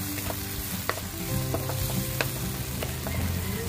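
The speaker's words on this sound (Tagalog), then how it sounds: "Gisa lang po natin ng ayos yung ating kamatis hanggang siya ay maluto." Tomatoes sautéing in a pan for pork picadillo, a steady close sizzle with occasional stirring clinks and scrapes throughout, no voices.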